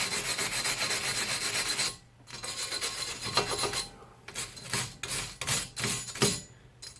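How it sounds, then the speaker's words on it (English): Scaly rust is wiped and scrubbed off the front brake hub of a 2001-2005 Honda Civic: a steady close rasping rub for about two seconds, then a string of short, separate scraping strokes. "So I try to wipe off any of the big scaly rust, any of that kind of stuff."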